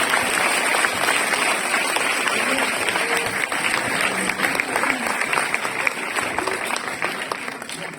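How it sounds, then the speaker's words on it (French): A cinema audience at a Luc Besson film premiere applauds strongly, with sustained dense clapping, some sharper individual claps and faint voices under the crowd. "On applaudit très fort, monsieur Luc Besson"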